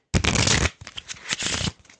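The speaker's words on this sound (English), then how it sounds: "That is a pack of cards being shuffled." A pack of playing cards being shuffled close by: a loud riffle burst lasting about half a second, a few softer flicks and taps, then a second riffle, with no talking.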